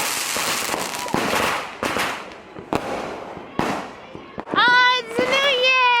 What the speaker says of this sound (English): It's only fireworks.